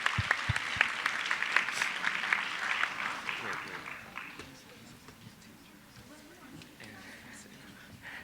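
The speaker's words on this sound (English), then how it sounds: "Can I get another cheer for Mrs. Breyer on this phenomenal journey?" A school assembly crowd at a high school's 50th anniversary celebration claps and cheers, loud rhythmic applause that fades away over several seconds, leaving a quiet murmuring room.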